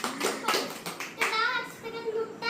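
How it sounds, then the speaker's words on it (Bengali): Family members clap hands at home during a cold drink challenge game, a few loose, close claps mixed with talking and a voice. "বাহ হাততালি"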